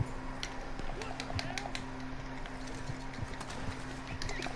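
Horse hooves clip-clop steadily in Red Dead Redemption 2 online, with a whinny and a low steady hum beneath the rhythmic hoofbeats, under a noisy game backdrop.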